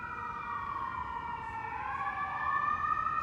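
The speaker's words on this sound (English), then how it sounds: "See, now they're hitting me with sirens." An emergency vehicle siren wails outside at a moderate distance, its long tone sliding down and back up, alone and steadily a little louder.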